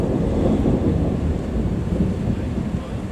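Deep rolling thunder from a nighttime storm at home, a loud continuous low rumble that fills the whole stretch, with a faint hiss of rain or wind behind it.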